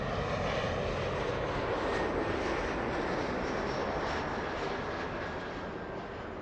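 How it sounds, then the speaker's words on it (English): A Delta Airbus A330-200 jet arriving from JFK roars past at LAX, a loud, dense and steady engine rumble that stays strong throughout and eases only slightly at the end, with no other sounds over it. "That is an A330-300. Sorry, A330-200 flying in from JFK, Delta"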